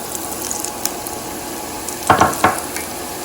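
Spinach pakora batter fries in a small pan, giving a faint steady sizzle with a couple of brief crackling bursts near the end.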